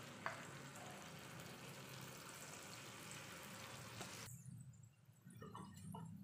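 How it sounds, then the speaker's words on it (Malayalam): Potato pieces (aloo) for a chilli potato curry sizzle and crackle steadily in hot oil, a dense, close frying hiss that drops off abruptly near the end, leaving faint bubbling. "तो हम लोग ये तेल पे डालकर फ्राई करके लेंगे"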